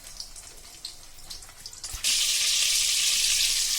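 Butter dropped into hot oil in a kadai bursts into a loud, steady sizzle partway through, following quieter kitchen rustling and a small thud, close and continuous with no one talking.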